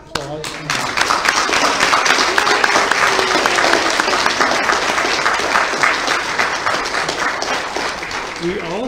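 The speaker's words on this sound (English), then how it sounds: "Have an applause." A church congregation applauds during a Sunday service. Loud, dense clapping starts after a brief pause and keeps going steadily for several seconds without fading.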